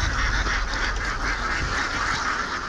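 A flock of ducks, sent to Pakistan to fight a locust plague on crops, quacks and honks loudly and steadily in a dense, continuous chorus with no pauses and no talk.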